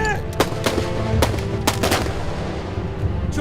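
Rifle gunfire in a naval battle film: several sharp, loud shots crack in an irregular volley over a rumbling background of battle noise.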